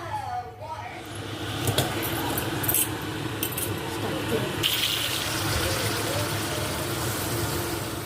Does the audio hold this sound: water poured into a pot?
yes